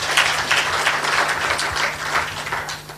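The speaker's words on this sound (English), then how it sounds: "A clap for him." Steady, dense applause from a conference audience, filling the room evenly for the whole stretch without a pause.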